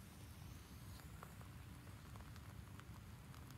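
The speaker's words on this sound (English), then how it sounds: "Rain." Steady rain ambience from the video game Black Book, a soft, even wash of rainfall with faint scattered droplet ticks, quiet and continuous throughout.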